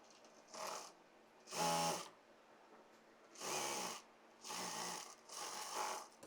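A sewing machine stitches the seams of a Farsi salwar in five short, quiet bursts separated by brief pauses, each run sounding alone without any talking.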